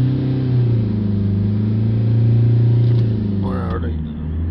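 A Mercedes E Class 2.0 Euro 6 engine, with a DPF not reaching regeneration temperature, is held at high, steady revs around 3000 rpm, a droning hum that eases slightly near the end, with a brief voice in the background.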